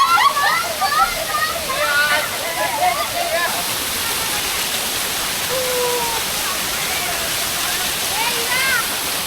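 A steady roar of falling water fills the scene at Devgad waterfall in Konkan during the monsoon, with people bathing, chattering and calling out over it.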